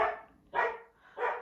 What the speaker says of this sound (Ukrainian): Це мій пес гавкає